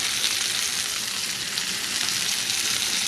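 A seasoned steak fries in a pan with a loud, steady sizzle close by, no talking over it.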